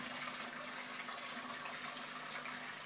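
Water drains steadily through a bell siphon in an IBC aquaponics system, a continuous rushing, gurgling flow heard close and alone.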